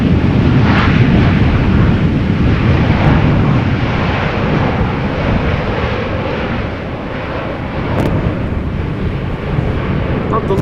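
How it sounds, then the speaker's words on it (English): Airliner landing at Amsterdam Schiphol Airport in stormy weather, a loud continuous roar of engines and rushing wind noise, steady and close throughout with a slight dip midway. "The loudest of landings."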